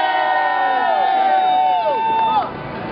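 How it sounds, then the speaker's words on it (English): A crowd at a community press conference cheers and applauds, with raised voices and whoops ringing out loudly over clapping for about two and a half seconds before dropping off. "Let's give her a big round of applause."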